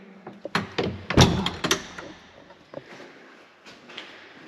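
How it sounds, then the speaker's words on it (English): Heavy door of a school chapel pushed shut, giving a loud close thud among several knocks and rattles, followed by quieter handling noises and faint room echo. "I'll shut the door."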